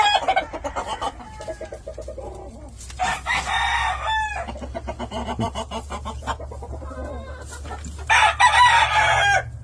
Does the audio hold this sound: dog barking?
no